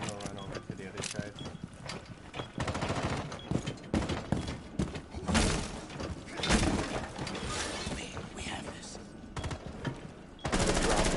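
Gunfire in Rainbow Six Siege, with bursts and single shots scattered through a busy, loud mix and players talking over much of it.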